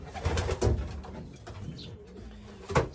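Racing pigeons in a loft coo softly before being basketed for a 70 km race, with a few low throaty coos and faint rustling close by, alone without talk.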